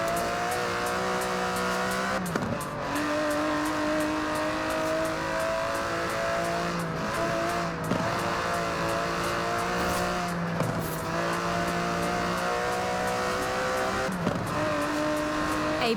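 Aston Martin DB11 with a 5.2-litre twin-turbo V12 in a racing video game, revving hard through repeated upshifts, each rising whine dropping sharply at the gear change, loud and continuous with no talking.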